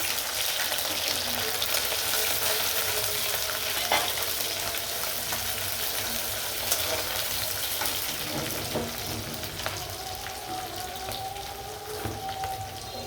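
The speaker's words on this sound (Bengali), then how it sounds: "পেস্টটা ভাজি দেব।" Spice paste sizzles steadily in white oil for a Bangladeshi potato, bottle gourd and climbing perch curry, a continuous close frying hiss with faint occasional stirring clicks and no talking.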